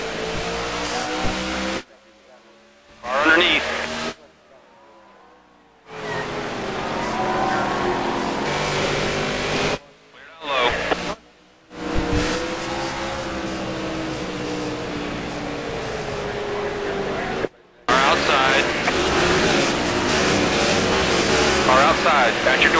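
NASCAR Sprint Cup race cars in a racing game at the STP 500: a steady loud engine drone with shifting pitch throughout, broken by several short silent gaps, while a spotter talks over it.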